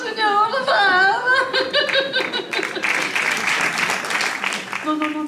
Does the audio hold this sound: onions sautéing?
no